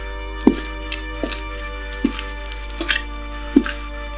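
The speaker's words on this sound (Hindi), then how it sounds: "ये शिकारी के कदमों की आवाज है।" Footstep sound effect of a hunter walking, five or six soft muffled thuds spaced roughly half a second to a second apart, over a steady low hum and faint background tone.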